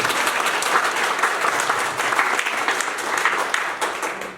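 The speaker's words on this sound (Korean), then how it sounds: "박수 한번 부탁드리겠습니다." An audience at a district policy forum applauds, a dense, even burst of clapping that holds steady for several seconds with no talk over it.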